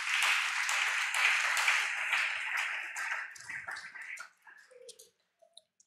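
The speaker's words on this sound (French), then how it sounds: "Acclamons pour le Seigneur Jésus." A church congregation breaks into loud, sustained applause that gradually thins out and fades to a few scattered claps and near silence.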